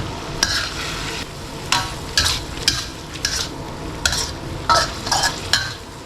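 Bamboo shoots with yellow chili and meatballs are stir-fried in a pan, a constant sizzle punctuated by repeated sharp scraping strokes of the spatula, close and fairly loud.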